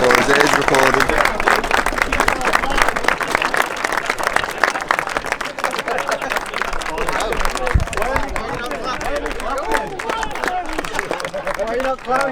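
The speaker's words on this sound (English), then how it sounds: "Give him a clap." A crowd applauds award winners at an endurance racing event, steady dense clapping sustained throughout with voices murmuring underneath.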